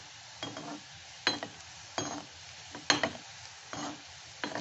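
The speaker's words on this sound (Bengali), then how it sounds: "এটা একটু লালচে করে ভাজতে হবে" Date-shaped sweets frying in a pan until reddish, a soft sizzle punctuated by sharp scraping and clinking stirs at irregular intervals, close and fairly quiet, with no voices.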